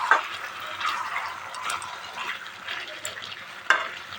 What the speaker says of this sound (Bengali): এরকম করে আস্তে আস্তে মাঝে মাঝে খুলে নেড়ে দেবেন